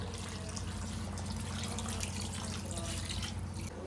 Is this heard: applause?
no